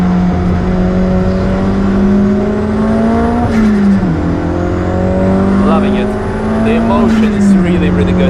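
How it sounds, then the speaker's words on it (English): Toyota MR2 with a Zurawski 1.8T engine swap lapping the Nürburgring, loud onboard engine drone rising and falling through the gears, with turbo whistle audible behind it and a voice talking over the top. "The whistle of the turbo behind you, the engine."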